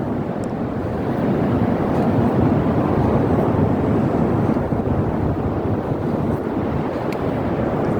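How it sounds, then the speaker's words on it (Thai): Steady wind and rolling surf at the seaside on a white sand beach, a continuous loud rushing roar with gusting buffeting on the microphone and no pauses. "นี่ก็เป็นบรรยากาศนะครับริมทะเลนะครับเนาะ"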